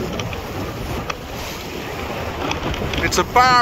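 A sailboat moves through the sea off Penlee Point toward Eddystone Rocks, with wind buffeting the microphone and the wash of water against the hull throughout. Someone speaks briefly near the end.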